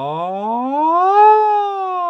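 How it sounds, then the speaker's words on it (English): A single sung vowel glides low, sweeps up to a higher peak and eases back down in a smooth, continuous siren-like slide, clear and close with no other sound. "I slide up in pitch and down again."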